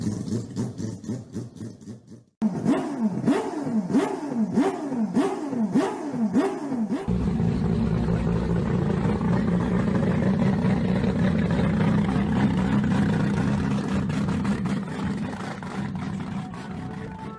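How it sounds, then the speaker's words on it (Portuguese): A Wankel rotary engine revs in a series of rapid rising and falling blips, then settles into a loud, steady high-pitched buzzing run that holds to the end. "Ouça o som do motor rotativo Wankel"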